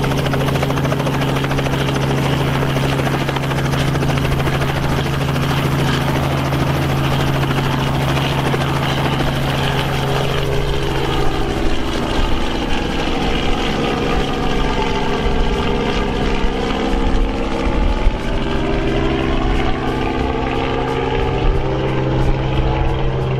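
A helicopter roars loudly nearby, its engine whine and rotor thumping rising in pitch as it powers up and takes off.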